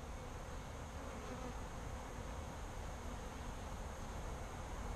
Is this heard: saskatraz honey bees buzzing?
yes